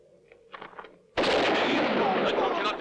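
A gunshot in an Italian western film cuts in abruptly after a quiet stretch with faint voices, then a loud, sustained roar of gunfire or its echo fills the rest of the moment.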